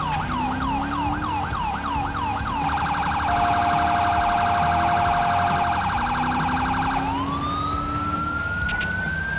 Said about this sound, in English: I am lights and sirens on.